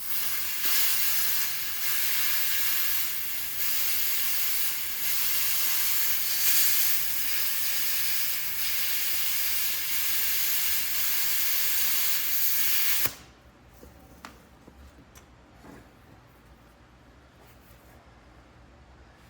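A worn nozzle on a tool works poorly while rebuilding a 1967 Schwinn Typhoon, giving a loud, steady hiss that runs unbroken for about thirteen seconds and then cuts off abruptly, leaving quiet room noise.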